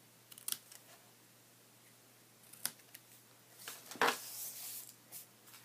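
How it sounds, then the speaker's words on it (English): Scissors snip through a paper banner in a few quiet, separate cuts spread across several seconds, close by, with no talking. "I'm just going to cut a little banner end here."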